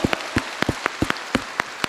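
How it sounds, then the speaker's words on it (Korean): A church congregation clapping in thanksgiving during a worship service: steady, evenly spaced claps at a brisk rhythm, moderately loud and close, with no talking. "믿음으로 주님께 우리 감사의 박수를 지어."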